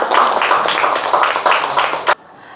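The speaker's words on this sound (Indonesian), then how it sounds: "berikan tepuk tangan" A classroom of students claps after a group presentation, bursts of close, uneven hand clapping in a steady run that cuts off abruptly near the end, leaving quiet room tone.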